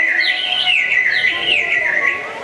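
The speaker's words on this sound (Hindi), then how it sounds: "सो हजारों चिड़ियों के घोंसले बने हुए हैं और उन घोंसलों में चिड़िया कलरव कर रही हैं" Many small birds chirp and twitter together in a steady, overlapping chorus of bright, repeated calls, close and fairly loud, with no talking.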